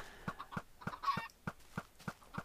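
Chickens cluck in Minecraft, a quick, evenly spaced run of short clucks, about eight or nine in a row, fairly close and unaccompanied by talk.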